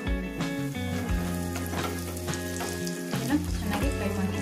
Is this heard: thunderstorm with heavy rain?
no